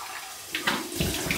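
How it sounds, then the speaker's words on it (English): Warm water runs from a tap during a shave rinse, starting faint and then splashing and gurgling more strongly as hands rinse under the stream. "So here's my warm water rinse."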